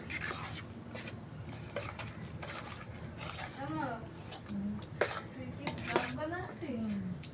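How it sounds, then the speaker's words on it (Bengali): Ingredients for homemade kasundi being stirred and mixed together in a pot, with repeated scraping and clinking of a utensil against metal, moderately loud and close, under a voice talking throughout. "সব ভালোভাবে একসাথে নাড়াচাড়া করে মিশিয়ে নিলাম"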